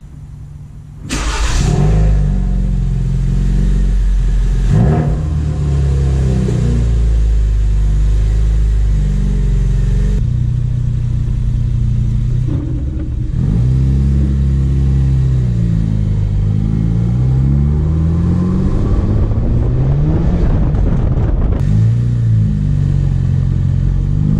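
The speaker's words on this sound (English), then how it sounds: "I'll keep the camera inside of the vehicle so you can hear just how great it sounds." From inside the cabin of a 2017 Ford Focus RS fitted with a Mountune bypass valve, the turbocharged engine starts, then drones and revs loudly through repeated rises and falls in pitch during a drive.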